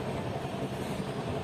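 Inside a moving diesel passenger train, a steady low rumble of the carriage rolling along the track fills a brief moment with no talking.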